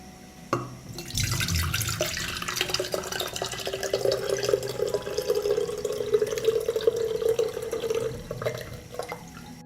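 Water soaked with banana peels is poured through a strainer, a steady close trickling splash that starts abruptly and runs continuously for several seconds before tapering off.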